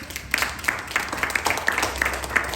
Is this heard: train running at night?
no